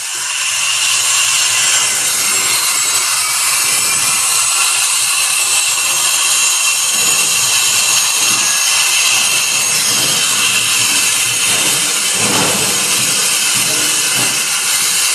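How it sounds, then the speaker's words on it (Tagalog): A helicopter engine running close by, a loud, constant turbine roar and hiss that holds steady throughout with no clear break. "Yan ang helicopter ni Saldico"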